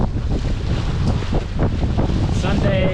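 Wind buffets a 1976 Cape Dory 25 sailboat at sea in roughly four-foot waves, a loud, constant roar of gusts and rushing water close to the microphone.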